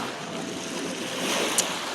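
Ocean surf rolls onto a sunny beach in autumn as a steady, loud, broad wash of breaking waves, with wind buffeting the microphone and no talk.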